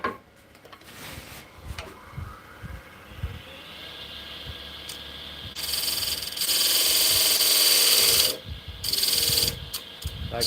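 A lathe turning tool shaves spalted hickory to fit a box lid, with light scraping and rubbing followed by a louder, steady hissing cut that breaks off and resumes in short bursts.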